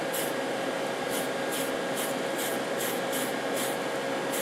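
Steady hiss of spray paint applied as a second light coat to a Tamiya 1/14 King Hauler R/C truck body, continuous and close with faint rhythmic pulses as the can sweeps.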